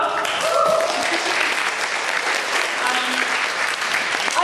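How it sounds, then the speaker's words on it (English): Loud, close audience applause at a literary arts event, dense clapping sustained throughout with a few faint voices mixed in. "Round of applause for Danko."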